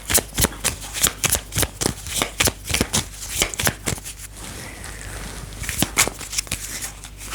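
Lenormand oracle cards are shuffled close up in a quick, steady run of crisp riffling bursts, then softer sliding and handling toward the end.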